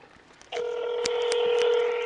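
A phone is dialed to place a call with call blocking, giving a steady electronic tone that starts abruptly and holds, with faint button clicks over it.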